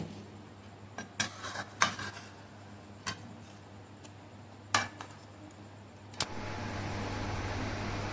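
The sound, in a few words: stirring mixed tadka dal in a pot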